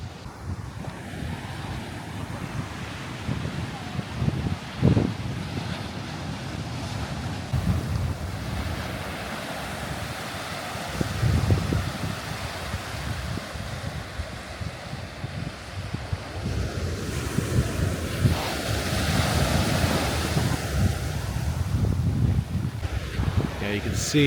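Ocean surf rolling and crashing along the rugged Big Sur coast in California, a continuous broad wash of waves with gusting wind buffeting the microphone, swelling louder in places.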